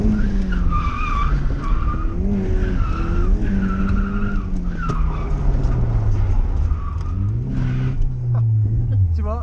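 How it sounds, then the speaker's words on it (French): A Nissan S13 with a CA18DET engine sliding its rear end with two wheels in gravel, the engine droning and wavering in pitch under continuous tyre scrub and skidding noise, loud and close, with a voice speaking over it. "J'ai mis 2 roues dans les graviers, l'arrière il glisse, du coup on se retrouve avec trop d'angles."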